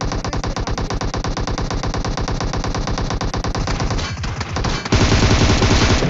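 Rapid automatic gunfire from a shooting video game, a loud continuous burst of rattling shots for several seconds, then a brief shift and renewed dense firing, with no talk over it.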